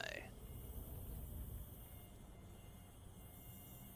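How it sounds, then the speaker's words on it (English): Mosquitoes buzz in the video game Neverwinter Nights 2, a thin, steady, high-pitched whine that continues throughout over a low ambient background, with a brief brighter sound at the start. "I hear mosquitoes, man."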